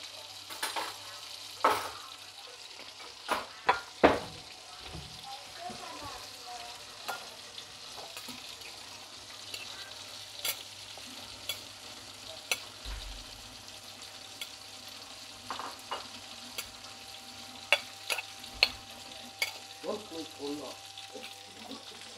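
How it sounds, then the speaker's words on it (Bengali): Oil heats in a hot frying pan before spiced potatoes go in, giving a quiet, steady sizzle broken by scattered utensil clinks and scrapes. "আমি এখন তেল দিয়ে দিব।"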